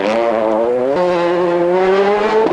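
A rally car spins on a stage of the Galway International Rally, 2005: the loud engine drones near at a steady pitch, then drops and shifts abruptly partway through as revs change.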